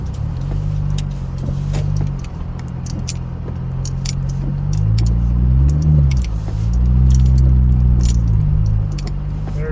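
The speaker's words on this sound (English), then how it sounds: "That is a thick snow, deep snow test for you guys." A car on Bridgestone Weatherpeak tires pushing through 15-20 cm of thick snow, engine rumbling low and close with revs swelling and dropping, over crunching and scattered clicks, no talk.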